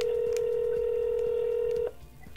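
Steady single tone of a telephone line on a call held for nearly two seconds before cutting off into faint line noise, alone with no voices.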